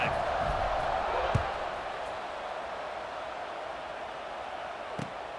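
A stadium crowd roars in the College Football 26 video game, a broad steady wash of cheering with a few thuds, fading slightly after the first second.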